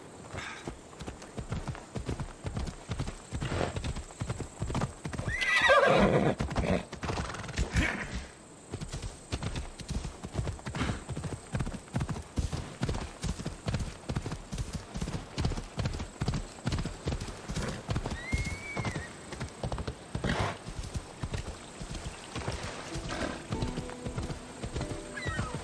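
Horse galloping in Assassin's Creed Odyssey, a steady rapid clip-clop of hooves running throughout with a whinny breaking in near the start, game ambience underneath.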